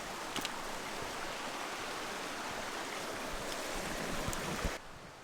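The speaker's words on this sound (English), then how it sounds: "And a waterfall, although it be only 6 inches." Steady broadband rush of trickling, splashing water from a small waterfall about six inches high on a hiking trail, continuous and fairly close, with a few brief clicks and knocks before it drops off near the end.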